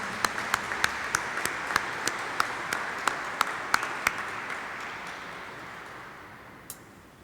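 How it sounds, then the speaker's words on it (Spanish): A church congregation at Sunday Mass applauds, a broad wash of clapping punctuated by a steady run of sharp, evenly spaced louder claps that stops midway while the crowd's clapping tapers off. "Fuerte aplauso"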